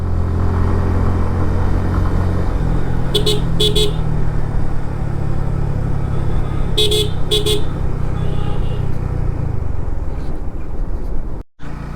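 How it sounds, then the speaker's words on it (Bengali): A loud, steady motorcycle engine drone on a winding, hilly mountain road toward Keokradong, Bangladesh, with passing traffic and a couple of short double horn toots in the middle, ending in wind buffeting. "তো বাইক চালাইতে ভালোই লাগতেছে।"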